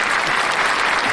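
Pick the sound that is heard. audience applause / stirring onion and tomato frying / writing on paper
audience applause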